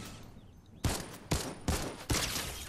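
Fortnite gunfire from a distant shooter: four sharp, evenly spaced shots ring out, each with a short echoing tail.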